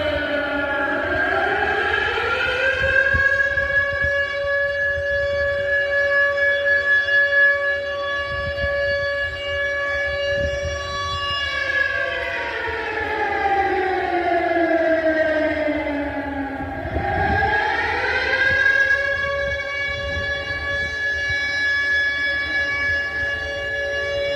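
An air raid siren wails in Odesa, in front of the city hall. The tone rises and falls in long sweeping cycles, loud and sustained, with no talk over it.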